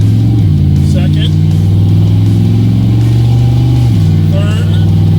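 A 1972 GMC C10 pickup with a 700R4 overdrive automatic transmission pulls away at quarter throttle, its engine drone loud and close, dipping and rising as the gearbox shifts, with someone talking over the engine.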